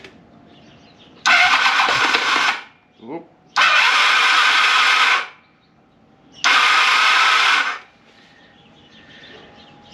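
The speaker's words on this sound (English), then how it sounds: "Well, let's try and fire it up." Motorcycle starter with carburetors and the choke on cranks in three long loud whirring bursts and fails to fire, close up, with a brief spoken exclamation between bursts.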